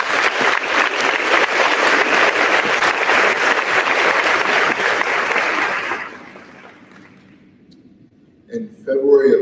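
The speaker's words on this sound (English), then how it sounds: "Please give Brittany a round of applause." An audience claps at a Raleigh High School senior awards ceremony, filling a large room with sustained, even applause that fades out over several seconds before a voice begins speaking near the end.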